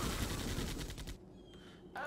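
Fast automatic gunfire in a video game rattles loudly in a steady rapid stream for about a second, then stops, leaving a few faint clicks and another short burst at the end.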